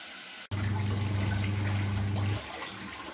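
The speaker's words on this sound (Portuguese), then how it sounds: "eu escoo essa água aqui de novo e encho de novo para o segundo enxágue" Water pours and churns inside a small mini washing machine being filled for a rinse cycle, a loud steady rush with a low hum that drops off near the end after a brief click at the start.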